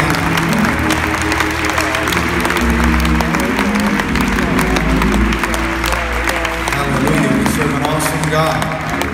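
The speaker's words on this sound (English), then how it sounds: "Why don't we give the Lord the best hand clap of praise we've given him all night?" A church congregation claps hands in praise at a worship service, loud and continuous with crowd voices and shouting mixed in, while a voice talks over the clapping.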